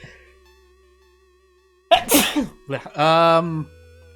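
A single loud sneeze from a person, sharp explosive burst followed by a short voiced tail, close to the microphone over a quiet background hum.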